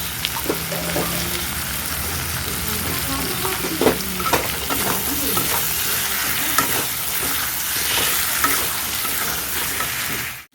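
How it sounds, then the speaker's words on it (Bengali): Chicken curry with pointed gourd sautés in a pan, giving a loud, steady, close sizzle of frying with stirring scrapes throughout and no talking. "ভালো করে কষাতে হবে"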